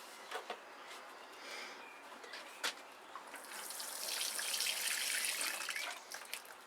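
Water runs from a tap at an allotment greenhouse, starting with scattered splashes and drips, then swelling into a steady hissing stream near the close.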